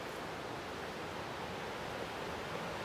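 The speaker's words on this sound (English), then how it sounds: "So there is the Nolichucky River," The Nolichucky River flows in a steady, broad rush of water beside cabins, a continuous even roar with no breaks and no voices.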